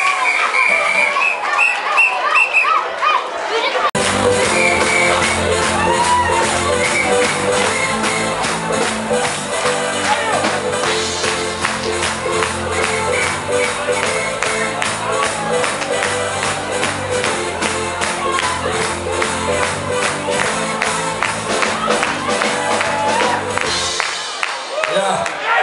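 A crowd at a 2013 flower parade applauds the Corso Kids in a long, steady wash of clapping mixed with loud music, sustained for over twenty seconds before fading.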